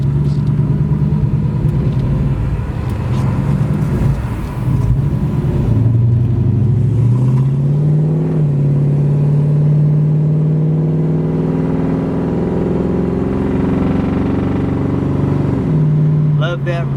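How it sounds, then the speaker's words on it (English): A 1966 Plymouth Barracuda V-8 with automatic transmission rumbles deeply through glass-pack exhaust. The loud, close engine drone rises and settles as the car moves, and a voice talks over it. "Love that rumble of the glass packs."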